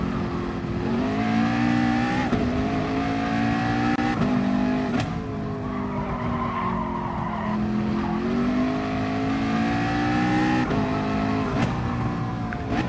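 A McLaren race car in a racing video game howls loudly, its engine pitch climbing through repeated upshifts with sharp drops between gears, close and continuous.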